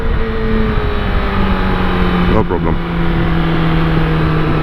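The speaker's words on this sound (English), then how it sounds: "A lot of traffic." Road traffic rolls past with a steady, loud engine drone, one vehicle sweeping by midway, while a person speaks briefly.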